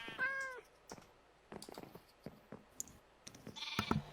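Several cat meows from kittens in the Minecraft video game, a clear tonal mew at the start followed by scattered softer mews and clicks, with a cluster of bleating animal calls near the end.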